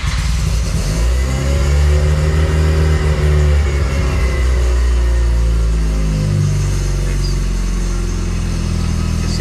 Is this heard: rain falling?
no